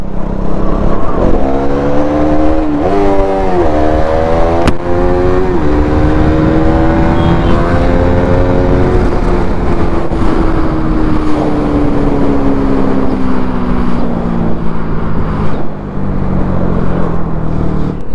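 KTM Duke 200 motorcycle engine revving hard and accelerating through rising gear shifts in a street race against an electric scooter, loud and close with a steady drone that climbs, drops and climbs again.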